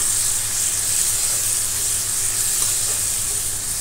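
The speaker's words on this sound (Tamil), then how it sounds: "அந்தளவுக்கு நல்லா மீடியம் ஃப்ளேம்லே வச்சு வதக்குங்க" Ripe chopped tomatoes sautéing in a pan over a medium flame for a quail and cashew curry, making a loud, close, continuous sizzling hiss with no pauses.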